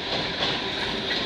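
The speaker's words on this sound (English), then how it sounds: "at least we got another one coming this direction" A CN freight train rolls past close by, a loud, steady rumble of wheels and railcars with faint clickety-clack, no voices over it.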